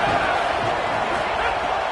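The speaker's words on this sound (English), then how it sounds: "how nice is it to have the home crowd going absolutely bananas?" Home crowd cheering loudly at an American football game between the Falcons and Commanders, a dense sustained roar with a commentator talking over it.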